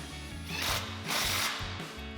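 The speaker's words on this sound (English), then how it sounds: "we're just gonna snug this clamp down enough to hold some tension on it, but not fully tighten it just yet," A power tool with a 15mm socket snugging an exhaust clamp on a Toyota Tacoma, two short whirring mechanical bursts with ratcheting pulses, close and fairly loud.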